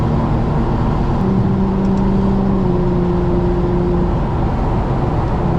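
Infiniti G37 with a seven-speed automatic droning under acceleration at night, a steady interior engine hum with rising tonal whine, close and constant without talk.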